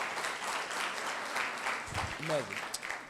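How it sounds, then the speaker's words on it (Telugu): A group claps briefly in a steady patter, with a short burst of speech near the end. "అందరూ అప్రిషియేట్, క్లాప్స్ కొట్టండి మీ ఫ్రెండ్కి."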